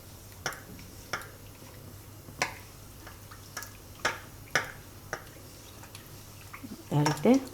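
A spoon stirs jaggery into water in a cooking pot, giving sparse light clinks and taps against the metal at irregular intervals. A quick cluster of louder scraping knocks comes near the end.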